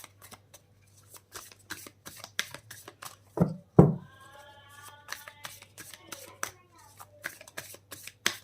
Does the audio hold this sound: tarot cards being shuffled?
yes